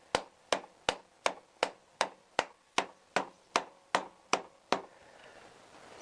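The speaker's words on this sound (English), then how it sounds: "And this might involve a rubber hammer." A rubber hammer taps a motorcycle top yoke into place on a CBR1000F, with about fourteen sharp, evenly spaced knocks at close range. They stop before a short quiet tail.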